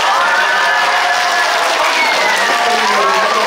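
Dense, steady applause from an audience at a Thai science talk event fills the whole stretch, loud and continuous with a faint cheer and crowd murmur mixed in.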